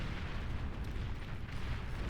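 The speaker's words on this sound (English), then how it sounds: "He keeps holding on with crawling bombs and Spectre explosions" Continuous rumbling barrage of explosions and bomb blasts in the real-time strategy game Beyond All Reason, dense low booms rolling together without pause at steady loudness.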